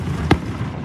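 Distant Independence Day fireworks, a single short crackling pop standing out over a steady background hum, fairly faint.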